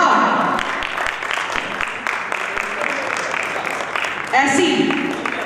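Sustained applause from an audience at an International Women's Day event in Ranchi welcoming Mrs. Chumki Roy to the stage, with dense steady clapping and a brief swell near the end.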